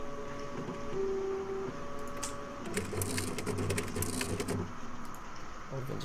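Printer running in the Fright Night video game, a low mechanical hum and rapid clattering print-head ticks that build in the middle, with tonal game sounds in the background and a voice speaking over it.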